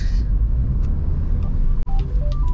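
A Suzuki Ertiga pulls away from a stop, its engine a close, low, steady rumble from inside the cabin, with a brief click and a few short electronic beeps toward the end.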